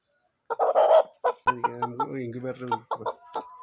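Close-up clucking of a black Kadaknath chicken in short bursts at night, followed by a longer, drawn-out cackle with a few quick clucks trailing off.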